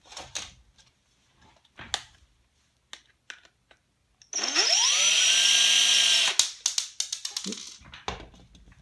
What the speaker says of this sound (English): So right now I'm just going to use my drill to take out these screws real quick.